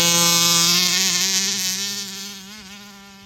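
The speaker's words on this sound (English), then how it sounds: "The engine's running in," A Rovan 45 MaxT engine fitted with an Olimat side pipe runs nearby, a loud, steady high-pitched buzzing drone whose pitch wavers a little as it eases off and fades.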